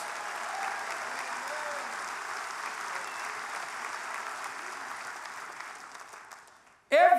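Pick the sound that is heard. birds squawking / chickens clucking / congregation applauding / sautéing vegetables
congregation applauding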